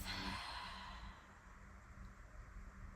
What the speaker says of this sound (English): taking a breath out through the mouth, releasing